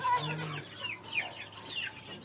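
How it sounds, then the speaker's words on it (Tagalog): Grandfather's chickens cluck close by on a Philippine farm, several short overlapping calls in quick succession, moderately loud with no talk. "Ito mga manok ni Lolo. Ayan. Ang ingay oh."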